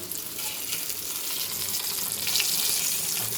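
Fish frying in a pan, a steady dense sizzle that stays loud and even throughout, with no talking.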